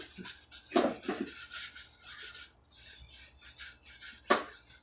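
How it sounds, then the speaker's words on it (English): A paintbrush worked back and forth over a painted birthday centerpiece, covering white patches; soft close brushing and rubbing strokes come in short irregular bursts, quiet with brief gaps between them. "Just rubbing your brush in like this to cover it up."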